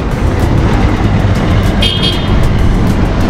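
A car arrives on a road by the Pandava-era caves, its loud, close engine and roadway rumble filling the whole stretch, with a brief high tone sounding midway.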